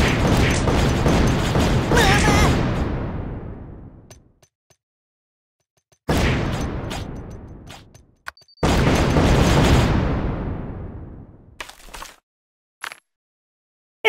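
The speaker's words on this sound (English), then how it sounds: "grenade!" Grenade blasts in the Kick The Buddy mobile game: three loud, booming explosions, each a broad roar that rumbles and fades over a couple of seconds, separated by silence and a few small clicks.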